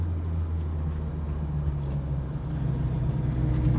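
A Lancia A112 Abarth with a recently overhauled brake caliper drives along, its small engine giving a low, steady rumbling drone with road noise, fairly quiet and continuous, no voices.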